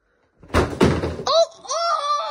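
A tower of stacked shoe boxes in a game of Jenga topples with a loud, close cardboard crash of several thumps, followed by excited shouting.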